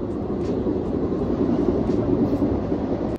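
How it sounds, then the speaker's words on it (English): A train in Italy's Cinque Terre rumbling past at close range, a steady, loud low roar that holds evenly for about three seconds before cutting off abruptly, with no voices over it. "the train coming up."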